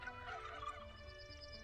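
Turkeys gobble in the Hearthlands village-building game, a soft, steady flurry of game-audio fowl calls that runs continuously through the short stretch with no voices over it.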